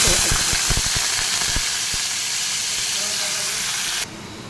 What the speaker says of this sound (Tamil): குக்கரில் எண்ணெய் நல்லா சூடாகிட்டு இப்போ நம்ம தேவையான கடுகு போட்டு பொறிச்சிக்கலாம்